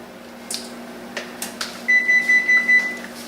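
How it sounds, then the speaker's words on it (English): A kitchen oven sounds a string of short, clear electronic beeps at a steady rhythm, loud and close, after a few faint clatters while a birthday cake is being prepared. "Our oven is done preheating"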